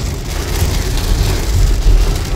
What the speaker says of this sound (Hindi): एक्सट्रीम रेन है।